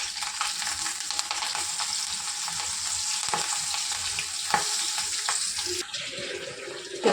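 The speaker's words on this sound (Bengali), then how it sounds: "এবার লঙ্কা আর ডালটা দিয়ে দেবো।" Green chillies and lentils sizzle and crackle in hot oil in a pan, a steady bright frying hiss with occasional stirring scrapes, close and continuous throughout.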